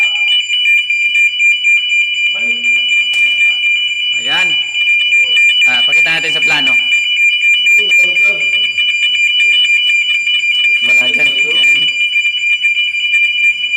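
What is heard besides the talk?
fire alarm ringing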